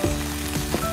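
Winged beans stir-fried in a hot pan, a brief burst of sizzling with quick scraping stir strokes, close and fairly loud.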